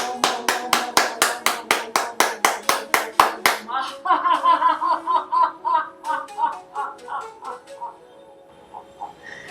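A steady run of about sixteen sharp, evenly spaced hand claps during an acupressure exercise session, close and loud, then voices take over in a drawn-out chant.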